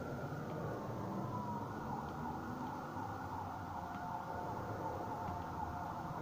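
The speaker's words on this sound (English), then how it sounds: "That's more sirens" Emergency vehicle sirens outdoors, a faint steady wail sustained through the whole stretch beneath constant background noise, distant rather than close.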